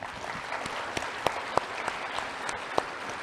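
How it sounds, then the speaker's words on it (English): Applause from the audience at the Wikimania 2023 opening ceremony, a short burst of dense crowd clapping with a few sharp, close claps rising above the steady wash. "let's give everybody, all of you on the remote, and all of you Wikipedians, Wikimedians all around the world, a well-deserved round of applause"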